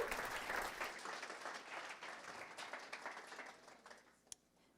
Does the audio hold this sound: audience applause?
yes